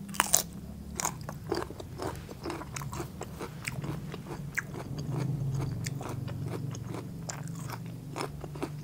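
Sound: eating crunchy vegetables with chili dip

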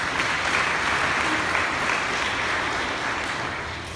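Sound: church congregation clapping

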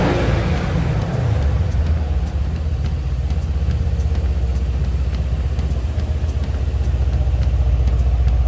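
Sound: Mercedes C63S AMG coupe exhaust sound

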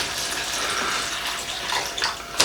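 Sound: water being poured into a food ration pack

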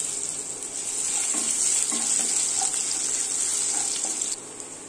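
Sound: crushed garlic frying in hot oil with mustard seeds and urad dal

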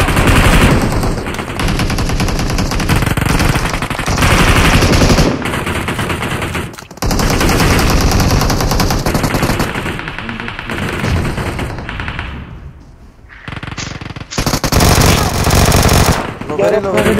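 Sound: gunfire from a video game shooter

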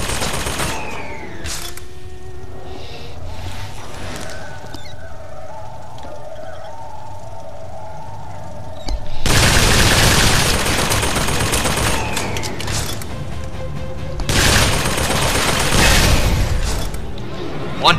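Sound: gun turret firing in BioShock Infinite: Burial at Sea video game

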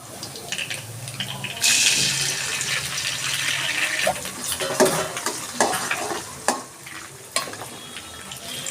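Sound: duck egg frying with potatoes in a pan

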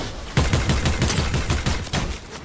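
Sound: gunshot headshot in the video game Fortnite

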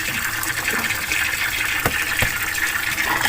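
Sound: water running while washing vegetables

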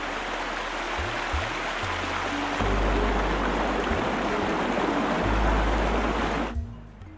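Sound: raging torrent of flood water in river

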